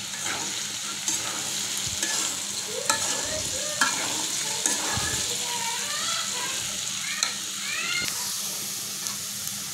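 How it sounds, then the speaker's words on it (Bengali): Potatoes and chopped garlic cloves fry in a pan, a steady sizzle broken by repeated scraping and clinking of a spoon stirring, close and fairly loud throughout. "দেখেন আলুগুলো আমার ভাজা ভাজা হচ্ছে"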